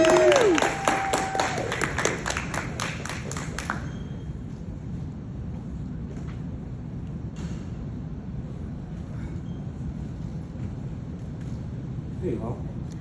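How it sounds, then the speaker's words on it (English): Audience applause greeting a keynote speaker at the MLK Library in DC, dense clapping with a few cheers at first, then settling into a steady, quieter wash of clapping and crowd noise, with a voice briefly audible. "Please join me with a round of applause."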